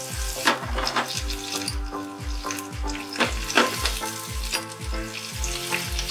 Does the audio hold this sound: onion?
yes